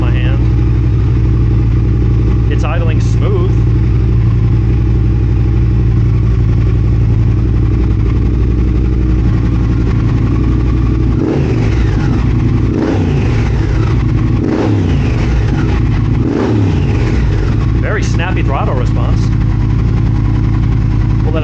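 A 2022 Triumph Speed Twin motorcycle with O2 sensors and SAI system removed idles steadily and loudly nearby, a continuous even engine rumble with a person talking over it.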